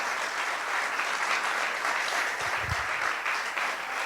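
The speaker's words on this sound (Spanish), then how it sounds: "Denle un aplauso fuerte al Señor" A congregation at a Spanish-language church service applauds loudly for the Lord, a steady, dense roar of clapping that holds evenly throughout, with no voices rising above it.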